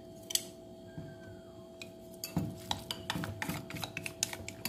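Seasonings being mixed into bánh đúc batter with coconut milk: a faint clink early on, then a run of quick scraping, tapping utensil strokes against a bowl, close and steady, with no talk.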